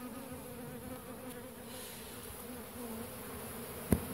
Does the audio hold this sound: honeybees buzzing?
yes